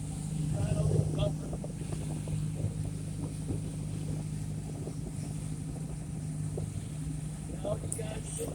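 An old minesweeper motors across open water off South Florida, with a second boat running close behind. The engine drones steadily and moderately loud under wind buffeting on the microphone, and people speak faintly over it.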